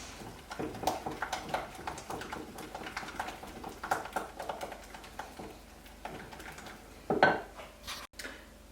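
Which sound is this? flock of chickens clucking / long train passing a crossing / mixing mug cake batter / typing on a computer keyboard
mixing mug cake batter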